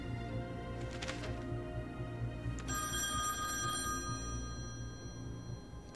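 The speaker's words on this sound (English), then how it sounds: "Better go answer the phone." A telephone rings inside the video game The Wolf Among Us, its bell trilling in bursts over a steady low hum of game ambience, fairly loud and close.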